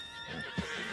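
A horse in Red Dead Redemption 2 lets out a short whinny, a brief rising neigh that peaks near the middle over faint background ambience, fairly quiet and close.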